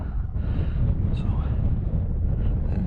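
Cold wind blasts across a Scottish mountain ridge, a loud, steady roar buffeting the microphone throughout.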